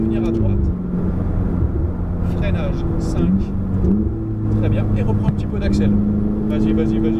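A Ferrari engine accelerates and shifts, pitch climbing then dropping between gears, with a person talking over the steady engine drone.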